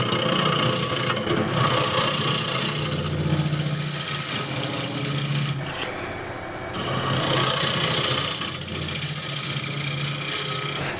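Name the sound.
wood lathe turning a tray, scraping wood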